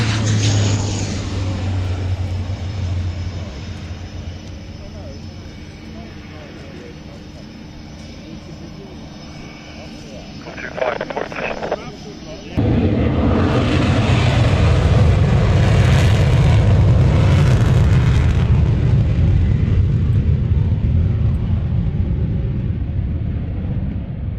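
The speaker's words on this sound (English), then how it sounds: "when a Chinook gets as close as that, you really have to hold on to your hats" A Chinook twin-rotor helicopter passes close overhead at an air show, a loud continuous roar of engines and rotors that swells abruptly midway and stays heavy to the end, with a voice talking underneath.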